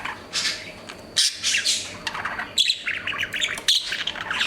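A budgie riding a skateboard gives repeated shrill squawks and chirps, close and fairly loud, over faint rolling and rustling noise.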